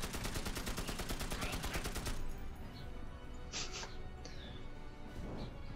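Rapid automatic AK rifle fire in the fantasy action game Magicka, a dense burst of shots for about two seconds, followed by scattered fainter effects and a voice talking in the background.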